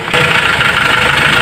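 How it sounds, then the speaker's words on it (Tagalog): A Hyundai Porter engine with low power runs rough and knocks, a close, loud, steady mechanical chug that starts up sharply and then holds an uneven pulsing rhythm. "At parang maglagatak ang andar ng makina."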